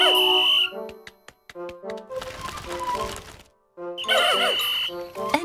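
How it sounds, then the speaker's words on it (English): A whistle is blown in the video game Pikmin 4, with sharp, close tones rising over a bright game music backdrop and short tonal effects. "Blow your whistle."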